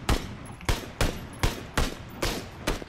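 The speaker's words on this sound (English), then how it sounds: "I'm getting shot, dude" Gunfire in PUBG, a first-person duos match: six sharp, evenly spaced shots about half a second apart, loud and close with short echoing tails, and no talk over them.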